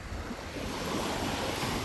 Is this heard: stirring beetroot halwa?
no